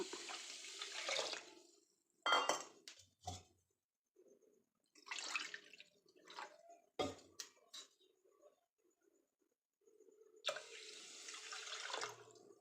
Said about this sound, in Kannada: ಅದೇ ಕಪ್ಪಲ್ಲಿ ಒಂದೂವರೆ ಕಪ್ಪಷ್ಟು ನೀರು ಹಾಕೋಣ